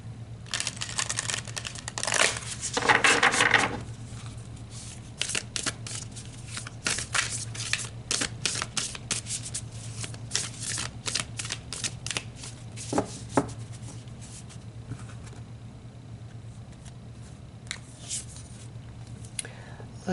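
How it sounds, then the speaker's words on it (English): A deck of tarot cards is shuffled and cards are pulled, with crisp, close riffling bursts at first and then scattered soft flicks and slaps as cards are drawn and laid down. "let's pull you a couple more cards"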